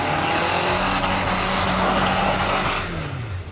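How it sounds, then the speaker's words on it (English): Toyota Land Cruiser Prado engine revving hard against the limiter while all four wheels slip climbing an icy, snow-covered slope, a loud, sustained roar that dips in pitch near the end. "The Toyota slips all its wheels, and with the engine revving at the limiter, the car conquers the climb"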